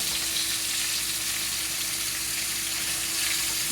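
Jumbo shrimp sizzle steadily in a shallow layer of oil in a home kitchen, a loud, continuous frying hiss that fills the whole stretch with no talking.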